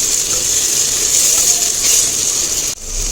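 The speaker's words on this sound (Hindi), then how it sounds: "अब इसको भी अच्छे से मसाले प्याज टमाटर के साथ भून लेते हैं" Ginger garlic paste fries with spices, onion and tomato in a handi pot for mutton rogan josh, a steady loud sizzle and hiss throughout with a brief clunk near the end.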